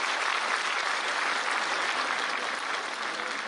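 Steady, dense applause from the audience at a state-level teachers' award ceremony in Madhya Pradesh, a continuous even wash of clapping that holds at the same level throughout with no voices over it.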